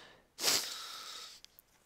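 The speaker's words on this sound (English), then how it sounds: "Sorry about the sniffles, but dust does that." One sharp, close nasal snort or sniff from dust while cleaning a desktop computer bursts out, trailing into a breathy exhale, followed by two tiny faint clicks in otherwise quiet surroundings.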